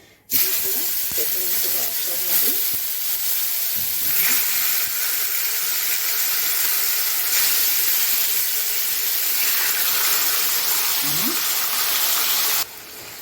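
Chicken sizzling in a grill pan on a gas stove, a steady loud hiss lasting throughout with faint clinks, and a voice speaking at times over it.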